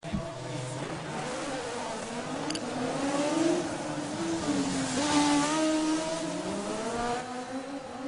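A race car driven by Michael Schumacher at the 2012 Race of Champions accelerates and shifts through gears, its engine note rising and falling under a continuous roar, with the sound swelling louder midway.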